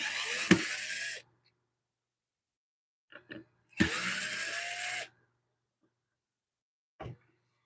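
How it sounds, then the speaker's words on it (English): A power screwdriver whirs in two bursts of about a second each while backing screws out of a lathe plate, with small clicks and taps of handled metal between them. "the power wrench or power screwdriver, and we remove these"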